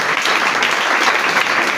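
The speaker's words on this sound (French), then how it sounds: "Est-ce qu'on peut acclamer la parole de Dieu?" A church congregation applauding at a French-language sermon, a dense, steady wash of clapping from many hands throughout.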